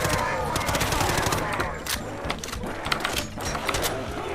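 Gunfire from a Mosin rifle in a shooter video game, a busy stretch of sharp shots and rattling clicks mixed with game sounds and some talk.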